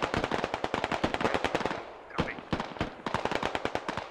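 Rapid bursts of automatic gunfire from the game Squad, a one-life operation of US defenders against insurgents, crackle loudly and continuously, with a brief lull midway before the dense firing resumes.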